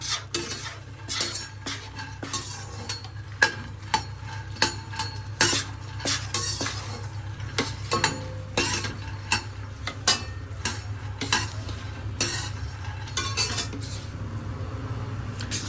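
Flour roasting in ghee in a pan for Punjabi khoya and jaggery pinni, with a spoon repeatedly scraping and clinking against the pan in an irregular rhythm over a faint sizzle, close and without speech.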